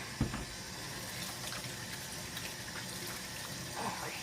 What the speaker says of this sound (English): I've got to wash my hands off now.